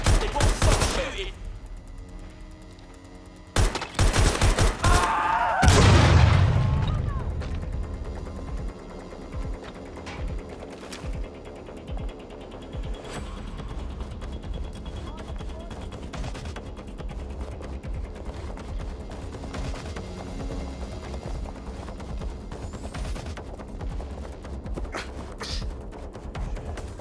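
Sustained gunfire in Watch Dogs: Legion, starting with a loud close burst and continuing as steady rapid shooting that settles into a dense background clatter, with a voice heard at times.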